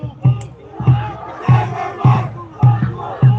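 An audience at a volleyball final cheers in rhythmic chanted bursts roughly every half second, loud and close, like a crowd shouting in unison.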